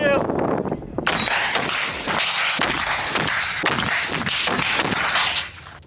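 Sharp gunshots crack out one after another in an irregular volley during military rifle training, loud and echoing, with a voice heard briefly at the start.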